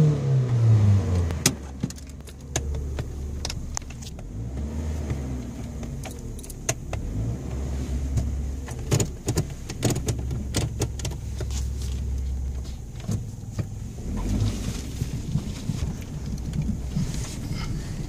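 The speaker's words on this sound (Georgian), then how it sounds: "Და ნახეთ რა კარგად დამყავს მანქანა." A car is driven by a learner driver, its engine rumbling low and steady throughout, overlaid by frequent small clicks and rattles from inside the cabin, with a brief rise in engine pitch at the start.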